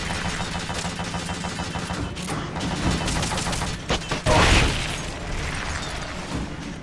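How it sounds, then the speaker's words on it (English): Rocket launches and gunfire in Metal Gear Solid: Peace Walker, a dense, continuous barrage of game combat with bursts and booms. A sharper, louder blast stands out near the end. "Just gonna launch some rockets. No big deal. Get shot a little bit."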